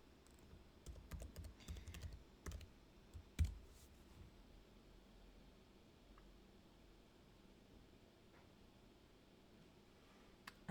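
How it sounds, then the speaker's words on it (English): Username and password typed on a computer keyboard, a quick burst of soft key clicks followed by a louder single press, then quiet room noise with only occasional faint taps. "So you will see me type username and password in just a second."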